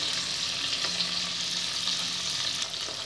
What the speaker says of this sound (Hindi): इसे बस दो मिनट में इस तरह से थोड़ा हिलाऊंगी इसे मैं ज़्यादा भूनूंगी नहीं